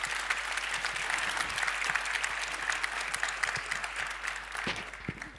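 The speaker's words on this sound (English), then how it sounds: "So a big round of applause, everybody, for Lyndon and Rosanna." Audience applause for Lyndon and Rosanna at a live design talk at the Stockholm Furniture & Light Fair, a steady dense clapping from a crowd that holds evenly throughout and thins slightly near the end.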